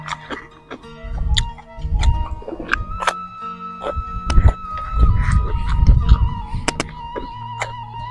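Chickens cluck and a rooster crows behind someone, with scattered sharp ticks and clatter nearby and a steady tone running underneath.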